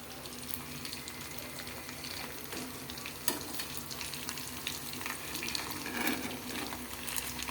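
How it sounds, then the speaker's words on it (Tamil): Chilli chicken frying in hot oil at home, a steady close crackling sizzle with scattered pops and stirring clatter throughout. "இன்னும் சில்லி சிக்கனை பொரிச்சிட்ருக்கோம்"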